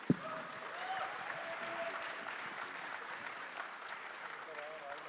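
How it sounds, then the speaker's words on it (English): At the Waves Summit, an audience in a large hall gives a panel a faint, distant round of applause, a soft continuous patter that begins with one sharp clap. "it deserves another round of applause"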